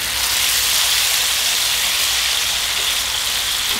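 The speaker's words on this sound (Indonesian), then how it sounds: "Oke, minyaknya sudah panas. Kita masukkan bumbu yang sudah kita ulek." Ground spice paste hits hot oil for an Indonesian spicy tofu dish, giving a loud, steady, close sizzling hiss that runs unbroken throughout.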